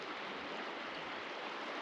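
A river flows across the badlands near Paria Ghost Town, a steady, close, broadband rush of water with no pauses and no voices.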